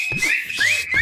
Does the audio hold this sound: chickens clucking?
no